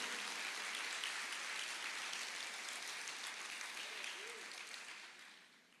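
Church congregation applauding the Lord during a sermon: steady, dense clapping from a large crowd that holds even throughout and fades away at the end.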